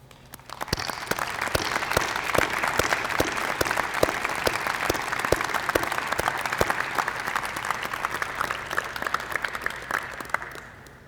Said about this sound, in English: would you stand and let us give you a round of applause?